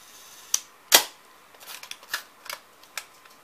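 A Hasselblad medium-format film camera fires its mirror and shutter with a sharp mechanical clack, followed by a series of smaller clicks and ratchet-like ticks close up in a quiet room.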